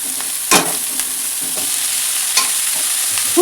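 Cauliflower florets stir-fried in a pan with onion and capsicum, a steady close sizzle broken by a few sharp scraping stirs of a spatula against the pan, with no talking.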